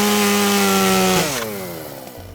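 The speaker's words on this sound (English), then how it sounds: "this crazed maniac chasing you around with a chainsaw" Loud chainsaw revving at a steady high pitch, then the engine note drops and winds down into a lower idle, heard alone and close up.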